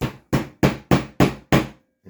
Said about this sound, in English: I like to place a nail right in that point